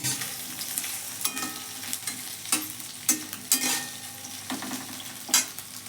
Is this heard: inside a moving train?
no